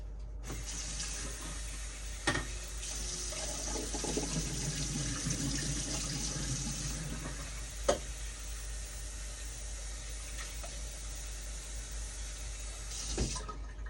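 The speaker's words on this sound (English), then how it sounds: "Now the sweet potatoes. I'm going to rinse this off." Tap water runs steadily as sweet potatoes are rinsed under a kitchen faucet, a continuous near splashing flow with a few brief clunks, no talking.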